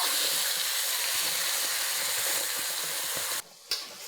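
Curry spice paste fries in hot oil on a medium cooker as part of Indonesian opor ayam, a loud continuous close sizzle that cuts out briefly near the end and then resumes.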